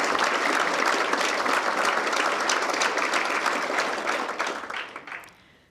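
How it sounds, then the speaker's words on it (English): Convention audience at a conservative political event breaks into sustained, dense applause that holds steady for about five seconds before tapering off to near silence. "I think that deserves a round of applause."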